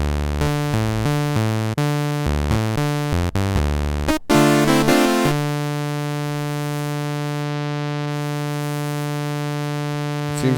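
Sustained Arturia MiniFreak synthesizer chords and stepping notes, played through its 3-band EQ effect, play alone, loud and bright, with a brief burst of noisy texture before settling into a long held tone.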